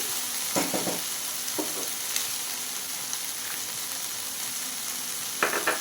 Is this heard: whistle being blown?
no